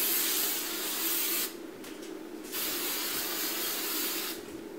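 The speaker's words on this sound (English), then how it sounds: "And then I'm going to spray all of my hair with the hairspray" Hairspray hisses from an aerosol can onto hair in two long sustained bursts with a short pause between, then a brief break before a final burst, loud and close with no talking.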